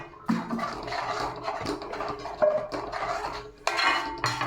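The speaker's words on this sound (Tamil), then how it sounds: "தோசை கல்லை போட்டு தோசையை வறுக்க போகிறேன்" A metal dosa griddle set down on a home kitchen stove, with several loud clanks and scrapes of metal cookware and utensil clinks spread over a few seconds, close and without talk.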